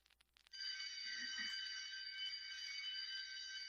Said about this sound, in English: That sounds like a fire alarm, not a school bell.